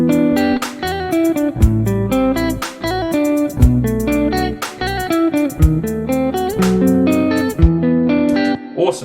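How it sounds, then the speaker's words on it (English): A programmed drum backing track for a home-studio jam, with hi-hats and randomly placed sixteenth notes, plays loud and steady for nine seconds under a full, distorted and effected instrumental mix with no talking. "So our 4 bars with the hi-hats with some randomly placed 16th notes sounds like this."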